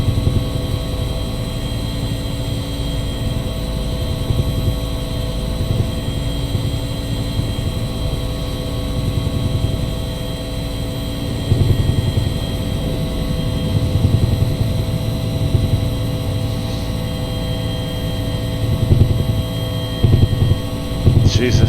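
The engine of a UH-1 helicopter in a Nimbus Simulations flight simulator game, a steady droning turbine hum with a constant whine and faint rotor pulsing, with a voice speaking over it at times.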